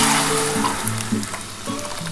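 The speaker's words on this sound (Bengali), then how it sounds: "এবার আমি ডালটা ঢেলে দিচ্ছি বন্ধুরা।" Lentil dal pouring into hot oil tempered with mustard seeds, black mustard and dried red chillies, giving a steady close sizzle with soft bubbling and stirring for a couple of seconds.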